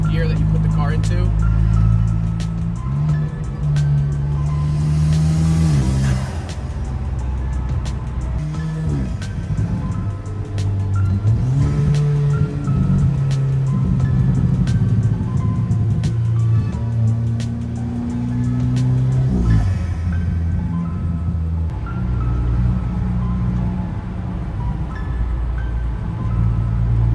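An Alfa Romeo 4C Coupe, a light car of about 2,500 pounds, revving and climbing through the gears, its engine note rising and dropping in steps with each shift, with someone talking over the drive.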